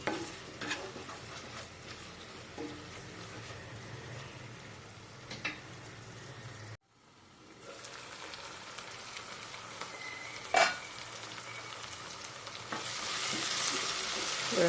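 Nela mulakkaya (ground drumstick) curry ingredients frying and sizzling steadily on a medium flame, with occasional stirring scrapes; a brief pause midway, then the crackling resumes and grows brighter toward the end, no talk.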